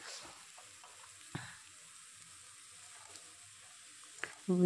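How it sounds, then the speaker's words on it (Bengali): Spice paste with tomato and chilli frying in a pan, a steady soft sizzle close by with a few brief clinks of the utensil against the pan. "টমেটো সব দিয়ে এই দেখো মশলাটা একেবারে ভালো করে কষিয়ে নিলাম"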